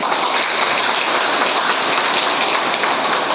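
A crowd at a community gathering for distributing food kits to blind people gives loud, dense applause, a steady wash of many hands clapping together throughout, with no voices.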